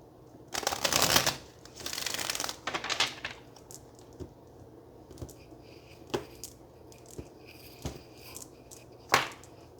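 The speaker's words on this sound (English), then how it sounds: "let's get one more shuffle" Two quick riffling card shuffles, crisp and close, followed by softer scattered taps and a final sharp card snap.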